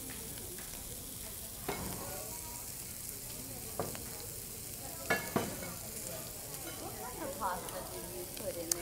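Meat searing in a pan at an outdoor market cooking demo, a loud continuous sizzle with occasional scraping and tapping of a utensil, while people talk in the background.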